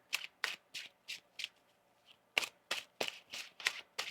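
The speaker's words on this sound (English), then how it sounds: "One more shuffle here." A deck of tarot cards is riffle-shuffled up close in a steady run of quick, crisp rustling bursts, a short pause in the middle before the rhythm resumes, fairly faint and with no voices.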